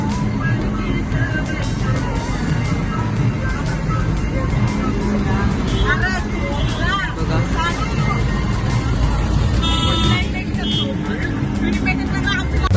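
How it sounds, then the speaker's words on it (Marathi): Busy road noise in a traffic jam near Ekvira temple, with engines idling and rumbling close by, a dense mix of vehicles and voices chattering over it. "फुल ट्रॅफिक लागलेले आहे"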